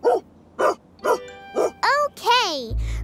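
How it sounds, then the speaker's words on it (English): Cartoon dog barking, four evenly spaced short barks followed by two longer yelping, whining cries, loud and close, ending in a low thump. "Let's build a dog house, Morphle."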